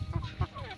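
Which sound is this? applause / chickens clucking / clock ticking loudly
chickens clucking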